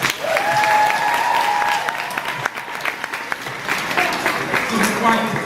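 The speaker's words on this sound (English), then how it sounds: "give me some claps" An audience claps together in a sustained burst of applause, loud and close, with some voices and cheers mixed in as it tapers off.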